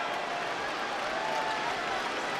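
A basketball arena crowd at a 2011 NBA playoff game between the Mavericks and Blazers keeps up a steady roar of cheering and clapping, broad and sustained without a distinct peak.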